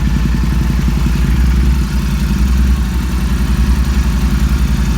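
Royal Enfield Interceptor 650 twin with Red Rooster aftermarket exhaust and dB killers removed, idling with a deep, steady, throbbing rumble, close and loud, running continuously without any talk.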